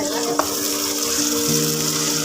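Fish curry in a pan, sizzling and frying steadily while a ladle stirs it, with a short clink near the start and a thin background tone under the frying.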